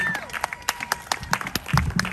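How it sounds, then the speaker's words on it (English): Scattered audience clapping greets a county supervisor at an outdoor arts-in-the-park event, sparse, uneven claps rather than a full ovation. "give a big round of applause for County Supervisor Greg Cox"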